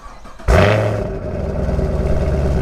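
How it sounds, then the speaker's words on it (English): Chevrolet Camaro SS exhaust on a cold start, an abrupt loud catch at startup that settles into a deep, lumpy, rumbling idle, close up with no talk. "we might as well do a fun cold start, because who doesn't love to hear this thing run?"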